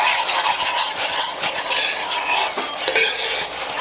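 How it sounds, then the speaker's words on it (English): A roux for turkey neck gravy stirred in a hot pan, a continuous dense sizzle and scraping as a utensil works the flour and fat, close and steady with faint clinks, no talking. "go back to your roux and stir"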